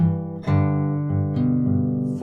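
An acoustic guitar plays a descending line, several ringing plucked notes stepping downward at a relaxed pace, close and clear with no voice over them.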